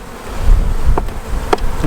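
A freshly smoked honey bee hive gives off a steady, close, low buzz as the bees move aside. Two brief scraping clicks break the hum.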